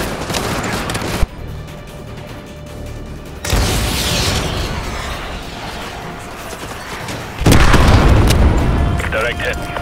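AGM missile strikes in Call of Duty: Modern Warfare 2 Remastered, with heavy booming blasts and rumbling impacts that hit in separate loud bursts, mixed with mechanical clatter and background game noise.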